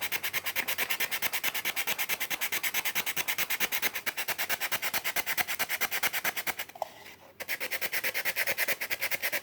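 A tool scrapes wood filler across a wooden step in fast, even back-and-forth strokes, a close rhythmic rasping that pauses briefly before resuming.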